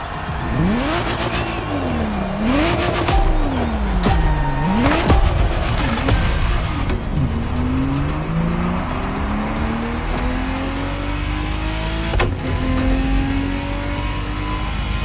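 A Ferrari Testarossa engine from The Crew Motorfest revs hard through rising and falling gear pulls, loud and close, with repeated upshifts and a steady drone under the racing-game driving.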